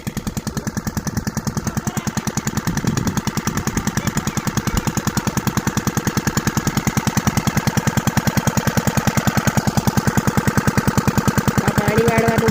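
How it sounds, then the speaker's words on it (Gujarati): A farm water pump engine runs steadily in a field, drawing irrigation water from a canal: a loud, close, rapid mechanical chugging with a regular beat throughout. "આ પાણી વાળવાનું મશીન છે."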